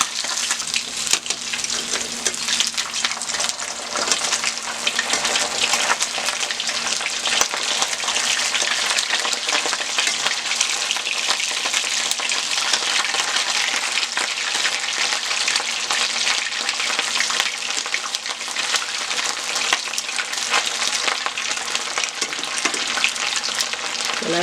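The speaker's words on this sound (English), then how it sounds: "we'll go onto the stove where the fish is frying" Fish frying in a pan on a stovetop, a loud, continuous hiss and crackle of hot oil that holds steady from start to finish, close up and with no voices over it.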